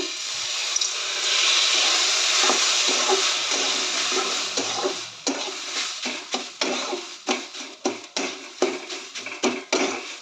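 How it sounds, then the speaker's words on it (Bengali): Water splashes into a hot pan of semolina upma, giving a steady hissing sizzle that gives way to a series of sharp crackles and stirring clatters, close and fairly loud, with no talk. "আর সামান্য একটু জল অ্যাড করব"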